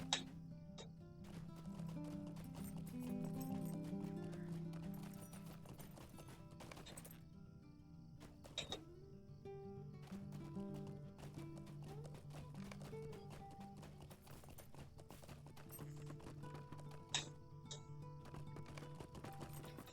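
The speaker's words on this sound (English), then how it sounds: "We'll get on a racehorse. And we're off." Racehorse hooves galloping in the LOTRO video game, a steady quick clip-clop rhythm running throughout over game music and ambient tones, with occasional sharper taps.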